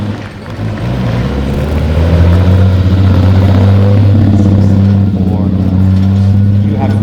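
An Alpine M64 Le Mans prototype race car engine runs close and loud, a steady low rumble that swells slightly and holds at a constant pitch, shown at an outdoor concours of elegance.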